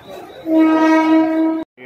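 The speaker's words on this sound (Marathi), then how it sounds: "ही आपली आताच आली आहे कर्जत फास्ट ट्रेन लोकल आहे" A Karjat fast local train arriving at Dadar platform 9A on Mumbai's Central Railway sounds a loud, close, steady horn blast of about a second before it cuts off abruptly.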